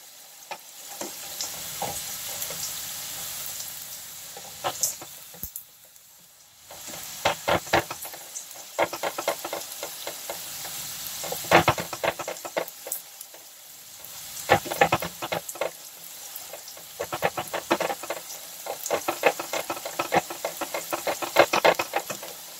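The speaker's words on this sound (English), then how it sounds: "Look at that sizzling." Food sizzles and crackles in a hot pan, with bursts of popping and occasional stirring scrapes, close up and continuous.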